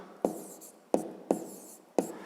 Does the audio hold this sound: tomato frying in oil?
no